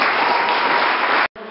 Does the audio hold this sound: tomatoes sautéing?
no